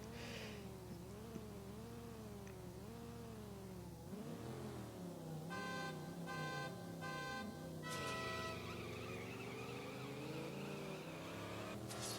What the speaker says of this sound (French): faites monter le régime avec l'accélérateur jusque l'indiqueur reste vert